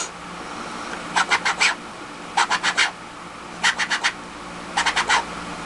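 A beatboxer's mouth mimics a DJ crab scratch: four clusters of quick, raspy four-stroke scratchy bursts, evenly spaced and close, with near-silence between them.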